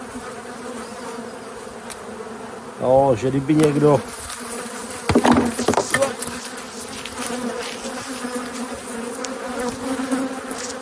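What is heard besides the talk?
honey bees buzzing at a hive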